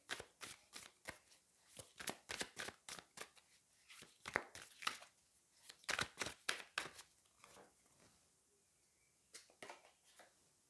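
Tarot cards are riffled and slapped in quick irregular bursts close by, with a lull before a final short flurry.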